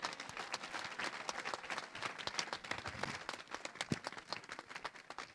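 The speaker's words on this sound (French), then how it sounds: "Est-ce qu'on peut acclamer le Seigneur pour sa parole?" A church congregation breaks into applause and clapping for the Lord, a dense, moderately distant wash of many hands with scattered cheers and voices mixed in.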